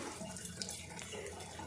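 Tap water runs steadily into a sink while hands are washed, a continuous close splashing hiss with no pauses.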